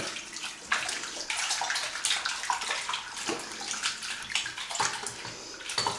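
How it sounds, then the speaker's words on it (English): A Hydrolast shave cloth and shave cube swirl through a basin of water, giving close sloshing and splashing with irregular gurgling surges and no voices. "I'm moving the cloth and the shave cube into the water, swirling them a little bit"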